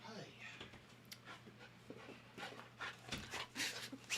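Luna the dog pants softly and quickly after coming indoors, faint and close, mixed with quiet background noise and some low talk.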